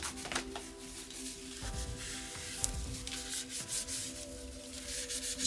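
Folded paper flaps of a handmade folio are burnished down with a tool, giving soft, close rubbing and scraping strokes in uneven bursts against a faint background hum.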